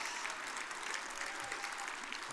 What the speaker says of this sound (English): Let's give them one more round of applause for winning in overtime.